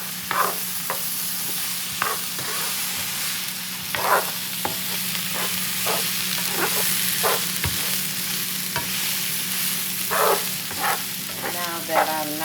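Salmon sizzles steadily in a hot pan, a constant frying hiss punctuated by repeated scraping and stirring knocks from a utensil, with a short bit of talking near the end.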